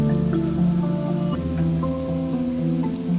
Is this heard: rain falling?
yes